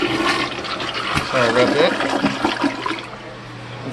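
A toilet flushes in a bathroom being cleaned after a water-damaged ceiling tile fell, with a loud rushing swirl of water filling the clip. Someone talks briefly over it.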